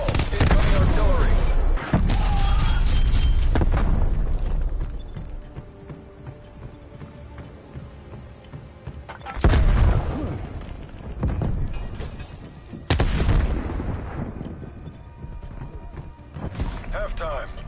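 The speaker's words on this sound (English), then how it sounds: "Artillery targeting detected. Taking B. Net call. Incoming artillery." Incoming artillery rains down in Call of Duty: Black Ops Cold War multiplayer, a series of heavy booming impacts with rumbling decay, separated by quieter stretches of gunfire and game noise, loud and near.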